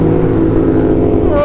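Yamaha MT-07 with a short exhaust pipe gives a loud, raspy engine roar close by, steady and throaty across the brief moment, with a voice talking over it.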